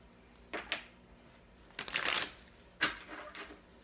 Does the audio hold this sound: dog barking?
no